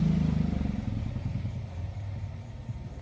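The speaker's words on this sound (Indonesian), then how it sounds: "nah ini ada motor lagi" A motorcycle passes on a road at night, its engine a steady low rumble with light clatter, loud at first and easing slightly over three seconds, with no talking.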